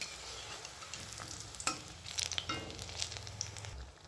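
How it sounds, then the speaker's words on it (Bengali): Green chillies frying one by one in hot oil for pakoras, a steady close sizzle with the scrape and knock of a spoon stirring and turning them, under a low constant hum. "তেলের মধ্যে আমি একটা একটা সেই লঙ্কাগুলো দিয়ে আমি ভেজে নিচ্ছি।"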